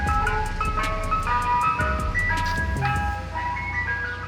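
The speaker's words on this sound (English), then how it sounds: "Freaking ice cream truck." Ice cream truck chiming its jingle as it passes along a rainy New York street, a steady tinkling melody over a low road rumble and traffic noise, fairly close and unbroken.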